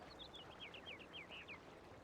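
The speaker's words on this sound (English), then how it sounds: "At least we get close to the nice birds." Birds chirping in the Syberia video game: a steady run of about ten bright, quick chirps in a rising-falling pattern, moderately loud over a soft ambient background.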